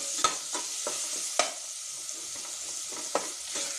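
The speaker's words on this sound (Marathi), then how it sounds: "गूळ आणि 2 मिनिटं छान असं कंटिन्यू फिरवत राहून मिक्स करायचं आहे सर्व" Amla pickle with jaggery being stirred in a pan, a spoon scraping and knocking against the metal in irregular strokes over a soft sizzle, close and moderately quiet with no talk.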